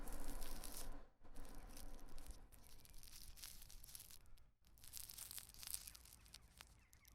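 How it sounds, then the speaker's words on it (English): Close to a microphone, a piece of paper is crunched into dense, crackling bursts of crinkling, with two brief pauses between them. "some sounds of me crunching a piece of paper in front of my microphone,"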